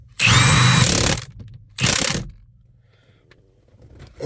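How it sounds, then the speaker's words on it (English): An impact gun loosening the steering wheel bolt on a BMW 528i, two loud close bursts of hammering rattle, the first about a second long, then quiet. "I'm gonna use an impact gun."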